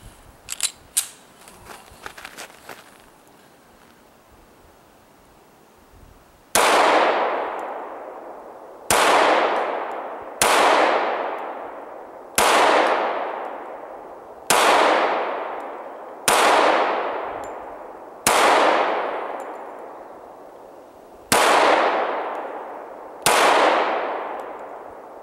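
A Springfield XD(M) Compact .45 ACP pistol fires at a steel target, nine loud, close shots with ringing tails spaced about two seconds apart, after faint clanks and handling noises.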